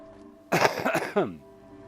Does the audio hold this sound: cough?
yes